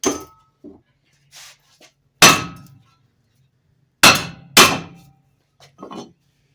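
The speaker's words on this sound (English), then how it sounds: "just smack them on the face and they come right loose" Worn brake rotors on a 1989 Suzuki Swift take hard hammer blows, three loud metallic clangs with ringing decay, one alone then two close together, plus a few faint knocks between.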